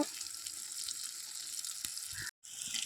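Cut gettigadda tubers cook in a pan with salt, giving a steady, even sizzle close by, broken by a very short gap near the end before the frying noise picks up again.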